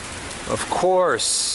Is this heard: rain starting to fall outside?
yes